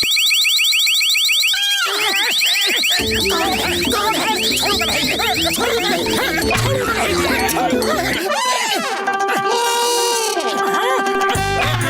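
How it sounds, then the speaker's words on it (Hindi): A safe alarm in a Motu Patlu cartoon rings loudly in pulsing, siren-like electronic tones, with cartoon voices and busy sound effects around it. "अब कोई भी इस तिजोरी को छुएगा तो अलार्म बज जाएगा।"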